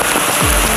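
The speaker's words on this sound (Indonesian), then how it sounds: "Hujan." Heavy rain in Batam during a flooding downpour, a loud, steady, dense hiss of falling water that fills the whole clip with no voices.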